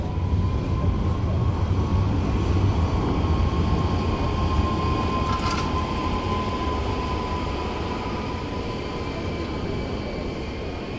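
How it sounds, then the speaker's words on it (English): A tram rolls along a Stockholm city street, heard as a steady, loud low rumble with a sustained whining tone throughout, fading slightly toward the end, with no talking. "Oh, that's a tram."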